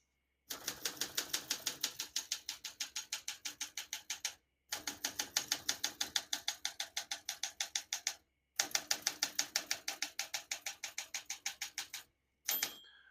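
A 1965 Olympia SM9 portable typewriter being typed on in steady rapid bursts of crisp mechanical key strikes, three long runs separated by short pauses and ending with a brief clack, close and alone.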